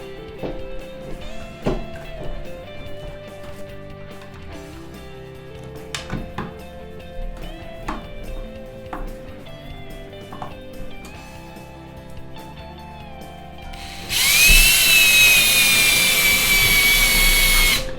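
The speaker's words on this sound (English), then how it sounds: "if you listen carefully as you screw this in, you'll actually hear the plug pop" A screw is driven by hand into a plastic wall anchor plug while mounting a broom holder, with scattered creaks and clicks of the plug, followed by a loud, steady whir from a power tool near the end.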